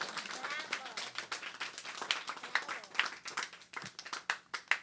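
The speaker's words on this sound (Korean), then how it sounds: "우리 마가에게 박수 한번 쳐줘요." A church congregation claps during a Korean sermon, sharp uneven claps rising and falling, fairly faint and mixed with voices speaking over them.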